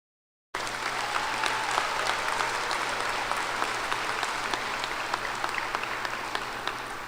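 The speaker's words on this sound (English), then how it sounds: "Please give them a round of applause." Sustained, dense applause from a large commencement audience at the 2022 graduation ceremony in WesBanco Arena, bursting in after a brief silence and holding steady and loud to the end without any talk.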